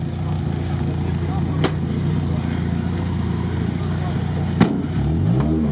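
A Chevrolet Niva driving off-road, its engine droning steadily and loud with rising revs toward the end, brief knocks and a sharp bump along the way, and voices talking over it.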